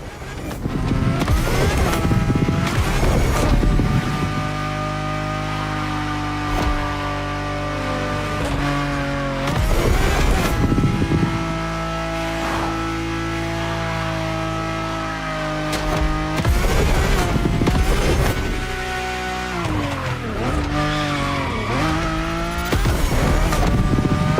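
Race cars in The Crew Motorfest, a driving game, roar without pause, engines loud and close, revs rising and falling through gear changes, with tire squeal and other cars passing.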